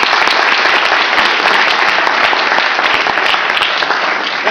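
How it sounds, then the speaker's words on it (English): Audience applause at a product development presentation, dense and continuous clapping from a crowd, loud and sustained for several seconds with no talk over it. "Give her a big round of applause"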